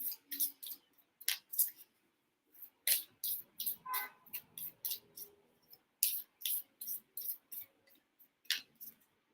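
Rapid bursts of crisp tarot card shuffling, riffled in short clusters with brief pauses between, close and fairly quiet.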